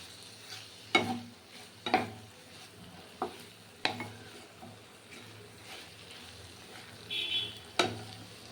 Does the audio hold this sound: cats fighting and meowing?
no